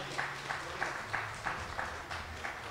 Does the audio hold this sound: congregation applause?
yes